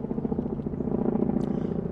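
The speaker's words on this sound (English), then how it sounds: "It's a helicopter." A low-flying military helicopter over Central Park beats out a steady, fast rotor thump that holds loud and close throughout, with no voices.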